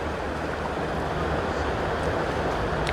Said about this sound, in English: You're getting some good splashes.